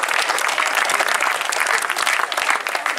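A crowd at a final event in Borås applauds continuously, a dense, even wash of clapping that holds at the same level the whole time.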